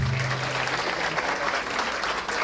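An audience at a school excellence ceremony applauds loudly and continuously, dense clapping from a crowd with faint voices mixed in.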